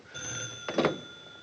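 An old-fashioned telephone rings in a period film scene, a steady electric ringing tone that holds throughout with a brief rougher burst partway, fairly close and alone.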